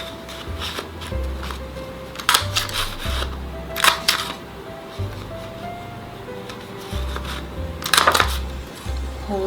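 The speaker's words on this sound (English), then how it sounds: "I'm going to grab my paper punch, and I'm going to make a few" A handheld paper punch snaps through sheets of coloured paper, several sharp, close metallic clicks spaced irregularly over low background rumble.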